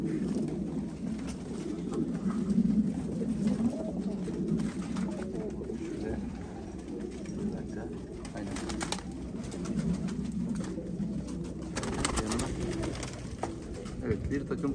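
Pet pigeons coo softly and repeatedly in the background, low rolling calls that continue under someone talking throughout.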